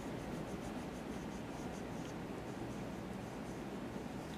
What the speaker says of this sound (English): your pencil and draw a straight line across